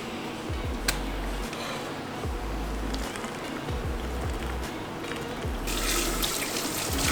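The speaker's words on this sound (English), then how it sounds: "so I wash this out, fill it up with cold water from the water fountain" Cold water runs from a water fountain into a bottle being filled: a steady, close rushing stream with small splashes and shifts in pitch as the bottle fills, and a brighter gush near the end.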